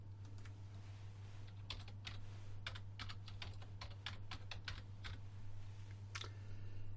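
Someone types a company name on a computer keyboard, a quick irregular run of crisp key clicks heard close, over a low steady hum with no talk.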